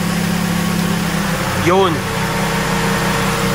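Steady, loud drone of an idling big-body car with its dual-speed radiator fan and auxiliary fan running, a constant whooshing hum throughout, briefly overlaid by a man's short spoken word.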